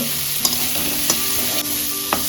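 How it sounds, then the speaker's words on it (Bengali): Prawns sizzle steadily in shallow oil while a utensil clinks and scrapes against the pan a few times at irregular intervals. "আমি অল্প অল্প করে তেল দিয়ে ভাজছি, ছাকা তেলে ভাজছি না।"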